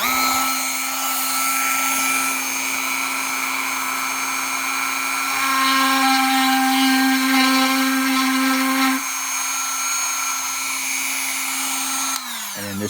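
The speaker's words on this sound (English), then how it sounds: "Dremel, cutting on." A Dremel rotary tool cuts into a lock plug, giving a steady high-pitched whine that deepens and strains mid-cut as it bites harder, then eases back before cutting off near the end, close and loud.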